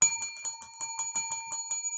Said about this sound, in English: I ring the bell for you, shorts.